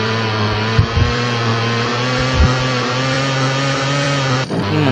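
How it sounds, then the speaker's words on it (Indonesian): A motocross bike engine in a video game holds a steady, loud, buzzing drone with a few brief bumps and dips in revs, continuous and close, with no voices over it. "Mantap banget nih motor cross Upin."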